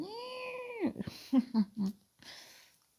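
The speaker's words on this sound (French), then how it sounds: "C'est le chat qui vous engueule." A house cat meows loudly and close by, starting with one long drawn-out complaint followed by several short, insistent meows, with a quiet voice briefly heard at the end.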